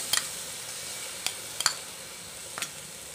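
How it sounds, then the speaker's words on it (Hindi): Green masala paste hits a teaspoon of oil in a pan that was just used for chicken tikka. A few sparse, faint sizzling crackles rise over a quiet background. "अब ये हरा मसाला डालेंगे"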